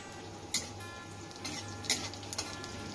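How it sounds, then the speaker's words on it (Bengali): Bay leaf, whole cumin and a dried chili broken in two, sizzling in a little oil in a wok, a soft steady crackle with a few sharp ticks from spoon or spices, faint and close, without talk. "ফোড়নের জন্য তেজপাতা দিলাম, গোটা জিরে ও 1টা শুকনো লঙ্কা 2 টুকরো করে দিয়ে দিলাম।"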